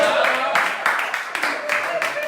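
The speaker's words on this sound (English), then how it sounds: "Maybe we still clap for them." Scattered clapping for performers at an Edo State event, coming in irregular bursts amid loud voices and background chatter, with a tonal hum underneath.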